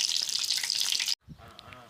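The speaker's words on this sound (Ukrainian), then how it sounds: "Смажу хлопцям чебуреки" A loud, steady hiss of chebureki frying in hot oil cuts off abruptly, followed by quieter clatter and faint background noise.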